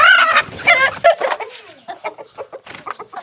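An Aseel rooster, a heavy Jageeri Asil bird, clucks and gives a short crow up close, a bright harmonic call followed by a run of sharp, choppy clucks.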